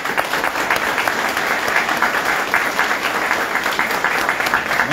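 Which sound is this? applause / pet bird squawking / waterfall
applause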